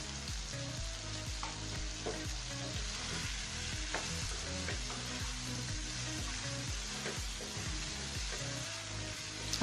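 Chicken pieces and potatoes fry in a pan before being made into a gravy with lai xak greens, a loud, steady sizzle close by, with repeated scraping stirs of a spoon throughout.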